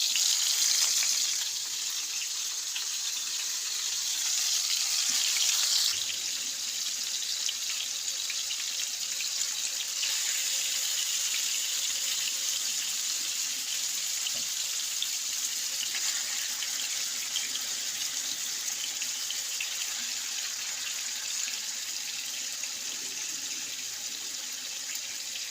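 Marinated chicken tikka pieces sizzling in a pan, a steady loud hiss that runs unbroken throughout with a slight shift partway through, no voices over it.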